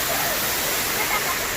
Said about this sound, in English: water's coming down all underneath here